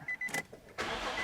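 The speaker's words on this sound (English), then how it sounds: "we're going to start the engine" A Nissan or Infiniti car engine cranks briefly with a few clicks, then catches and settles into a steady running roar, close and fairly loud.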